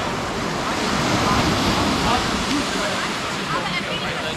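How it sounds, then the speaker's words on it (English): Sea swirling around coastal rocks on a shore near Girona: a steady, loud wash of surf and churning water, continuous with no pauses, roughened by some wind buffeting. "with the sea swirling about."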